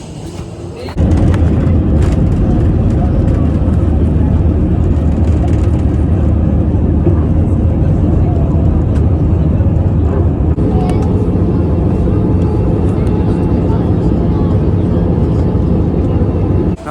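Steady, loud cabin roar of a passenger airplane at Zurich fills the whole stretch, a dense low rumble that holds constant from start to finish.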